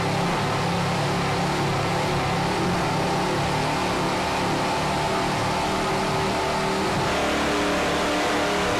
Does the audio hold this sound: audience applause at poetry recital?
no